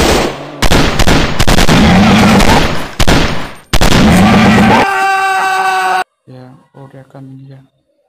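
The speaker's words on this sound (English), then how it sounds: "Suppressing fire on target!" Loud, dense bursts of video-game gunfire fill the first six seconds, rapid automatic shots with booming impacts, then give way to a quieter tonal game soundtrack; a player shouts over the action.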